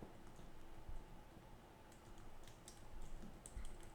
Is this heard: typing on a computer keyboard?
yes